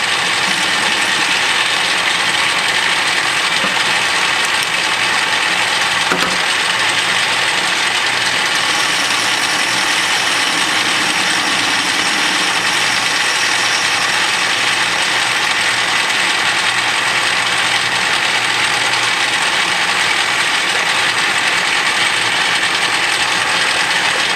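A metal lathe facing off a steam engine piston during a model steam engine build, giving a steady, loud mechanical whirr with a fine cutting rasp that runs without a break from start to end.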